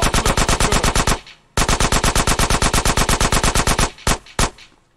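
Rapid automatic gunfire in GTA San Andreas Definitive Edition, loud and close: a long burst of evenly spaced shots, a brief pause, another sustained burst, then a few scattered single shots.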